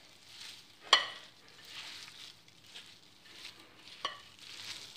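A mixture for fish stock frying and being stirred in a pan, a soft sizzle with scraping strokes and two sharp utensil clinks, moderately quiet and without talk.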